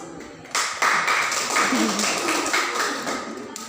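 Classroom applause in a microteaching biology lesson: a burst of clapping starts about half a second in, jumps louder just before the one-second mark, then holds steady and dense until it cuts off near the end.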